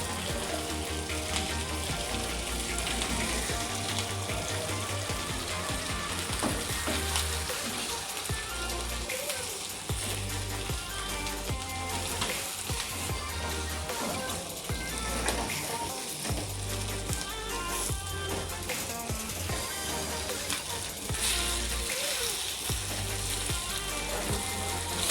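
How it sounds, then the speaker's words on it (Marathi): Fish fries in a pan over a low gas flame with a steady, dense sizzle and crackle that carries on without a break, close and fairly loud. "आता बारीक गॅसवर मच्छी शिजवून घेऊया."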